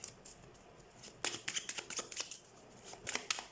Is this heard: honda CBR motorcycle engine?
no